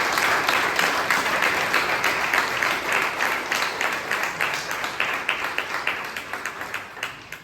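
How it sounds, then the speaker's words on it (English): A room of people at a Toastmasters club meeting claps steadily, a dense burst of applause that gradually thins out into fewer, more distinct claps toward the end. "Please give her a huge round of applause"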